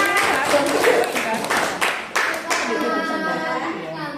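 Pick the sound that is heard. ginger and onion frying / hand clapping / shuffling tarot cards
hand clapping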